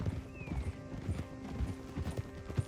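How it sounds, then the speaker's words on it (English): Horse in the video game Red Dead Redemption 2, hooves clip-clopping at a steady trot, with a brief whinny early on and faint background talk. "Get a hold of that horse,"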